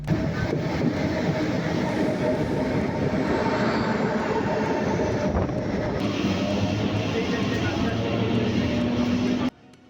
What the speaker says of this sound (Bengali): রাস্তার সাইডে ভিউ দেখতে দেখতে প্রায় পৌঁছে গেলাম বাঁকুড়া রেলওয়ে স্টেশন।